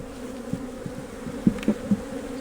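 Honey bees buzz at an open, strong hive during a brood frame inspection, a steady close drone with a few louder passing buzzes of individual bees near the microphone.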